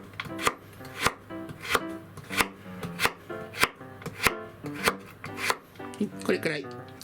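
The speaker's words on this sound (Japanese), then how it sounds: "これくらい短冊切りに人参も全部しちゃってください" A knife chopping a peeled carrot into thin strips on a cutting board, about a dozen crisp, evenly spaced knocks, close and clear with no talk.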